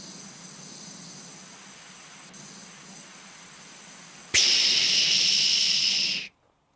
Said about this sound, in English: I also have a jet spray